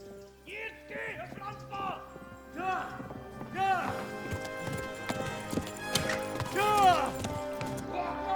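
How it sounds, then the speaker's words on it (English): Horse hooves gallop in the medieval video game Kingdom Come: Deliverance, a steady close clip-clop rhythm running throughout with horse snorts and a whinny, under game music and occasional voice. "I'm gonna kill my horse trying to get over here."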